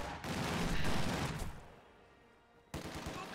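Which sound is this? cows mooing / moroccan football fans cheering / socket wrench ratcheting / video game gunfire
video game gunfire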